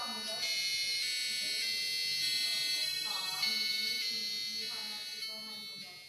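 A bright electronic buzzer melody from a portable device plays Happy Birthday, steady tonal notes stepping up and down, loud and close with no talking.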